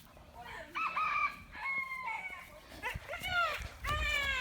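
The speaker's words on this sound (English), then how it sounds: "That is one of my old chickens." Backyard hens cluck and squawk in short, rising calls, several in quick succession close by, with an occasional crow-like note and people talking quietly in the background.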